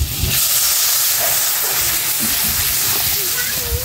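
Water poured into a pan of sizzling fish curry sets off a loud, continuous steamy hiss and crackle that stays strong throughout.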